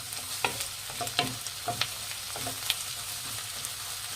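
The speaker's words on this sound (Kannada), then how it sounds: "ಇದು ಹಸಿ ವಾಸನೆ ಹೋಗೋವರೆಗೂ ಫ್ರೈ ಮಾಡಿ" Ginger garlic paste fries in oil in a pan for an egg puff filling, with a steady close sizzle and a few sharp clinks of a spatula stirring.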